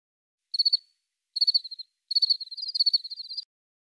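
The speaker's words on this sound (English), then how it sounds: "Male crickets sing songs with their wings." Male crickets chirping in three short bursts of rapid, evenly pulsed trills, the last burst longest, clear and close against total silence with no voices.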